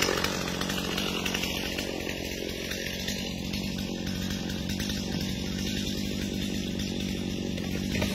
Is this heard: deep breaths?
no